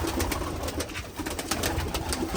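Several pigeons coo repeatedly in a dense, rhythmic chorus of low throaty calls, close by and continuous with no talk over them.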